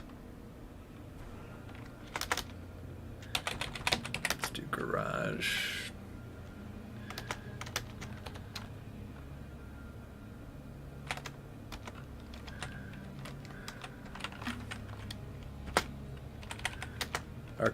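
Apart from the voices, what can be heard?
computer keyboard typing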